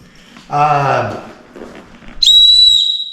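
A handheld emergency whistle from a bugout bag gives one loud, shrill, sustained blast near the end, after a short stretch of speech.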